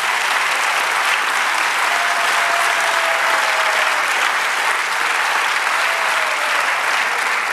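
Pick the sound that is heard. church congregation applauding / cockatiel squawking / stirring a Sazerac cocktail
church congregation applauding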